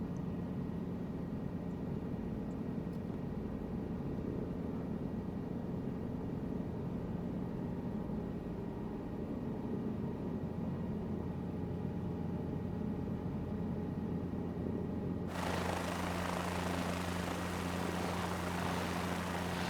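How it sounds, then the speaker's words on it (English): Simulated helicopter in Microsoft Flight Simulator 2024 holding a low hover just above its skids, a steady dense rotor and turbine drone throughout, with a sudden rise in broadband rushing noise for the last few seconds. "I'm gonna be on this practicing with the helicopter."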